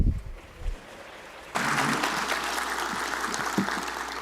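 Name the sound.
applause for the mayor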